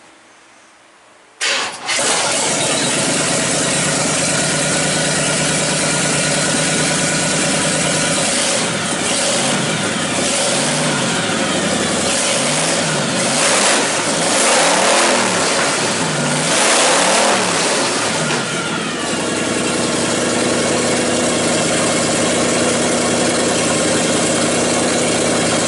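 A big block V8 swapped into a 1951 Ford pickup cranks briefly, fires up, and settles into a loud, steady idle, with a run of rising and falling revs partway through, close and alone.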